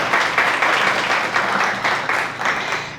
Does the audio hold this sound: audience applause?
yes